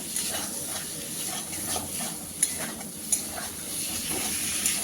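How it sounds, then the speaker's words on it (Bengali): Squash and potatoes sautéing in oil in a pan, a steady close sizzle with soft stirring scrapes and a couple of brief clinks. "আমি কোয়াশগুলো আলুর সঙ্গে এক মিনিটের মতো কষিয়ে নিচ্ছি"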